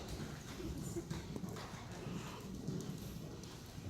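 A horse trots during a riding lesson. Its hooves give a steady, rhythmic clip-clop on the ground under continuous outdoor background noise, fairly close, with no clear talking.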